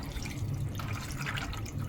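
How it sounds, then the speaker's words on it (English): Water is poured onto dry dog kibble in a silicone slow feeder to soak it, a soft, close, continuous trickle and splash at low volume. "And then I pour water"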